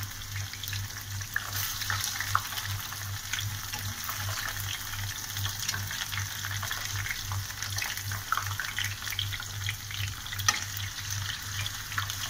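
Spiral-cut potatoes fry in oil with a steady, close crackling sizzle throughout, over a low constant hum.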